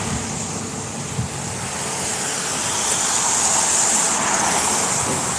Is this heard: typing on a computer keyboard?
no